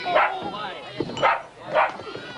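Dogs bark and yip in three loud bursts close by at a lively gathering, with voices talking throughout.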